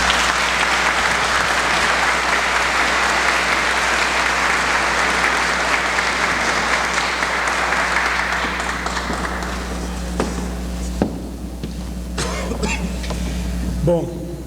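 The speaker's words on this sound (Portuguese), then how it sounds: "Vamos envolver o Sr. Durval com os nossos aplausos." An audience at a Spiritism gathering gives a long, full round of applause for the speaker Durval. It thins after about ten seconds into scattered claps, with coughs and a few voices.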